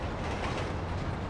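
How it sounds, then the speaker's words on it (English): A train driven in Grand Theft Auto V rumbles with a steady, loud, broadband roll of wheels and engine, continuous with no distinct clacks and no talking. "Yeah, we're driving a train in this beat."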